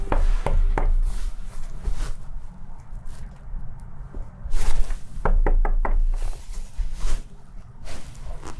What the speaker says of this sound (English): I have to knock about 4 times